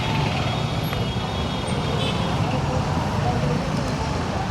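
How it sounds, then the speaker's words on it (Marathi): A road traffic jam with trucks, buses and cars idling and rumbling close by, a dense continuous roar of engines and road noise with no clear breaks. "एकाच्या चुकीमुळे ट्रॅफिक जाम."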